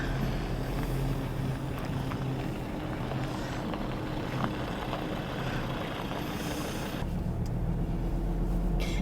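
Land Rover on a tag-along tour through mulga scrub at a World War 2 base near Charleville, Queensland, driving steadily with a continuous engine rumble and wind buffeting across the microphone, louder again toward the end.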